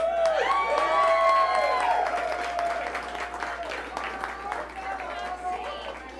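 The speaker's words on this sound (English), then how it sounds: "Let's clap for them." An audience claps and cheers for the organizers of a live event, with whoops and shouting voices over the clapping, loudest at first and then tapering off.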